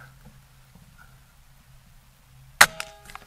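A Gamo Coyote Whisper .22 caliber air rifle fires one sharp, close shot near the end. Faint pellet-strike clatter and a short ring follow it, and before the shot there is only a quiet low hum.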